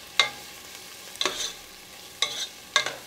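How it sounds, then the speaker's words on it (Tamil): Green chilies dropped into onions frying in a pan for a Tamil-style crab gravy, giving four brief bright sizzling bursts with stirring between, close and moderately loud, no talk. "வெங்காயம் கொஞ்சம் வதங்கின உடனே நான் நறுக்கி வச்சுருக்கிற 2 பச்சை மிளகாயை இதில்"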